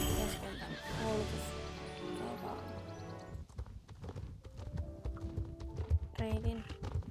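Horses in the Star Stable Online video game, a loud neigh and whinny followed by rhythmic clip-clop hoofbeats, with a voice talking over it.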